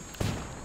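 In a shooter video game, a single sharp burst of gunfire hits hard and then decays into a low rumbling tail, heard over a quiet steady background hum.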